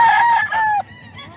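A three-year-old Kelso gamefowl rooster crows once, loud and close, its call falling off sharply at the end.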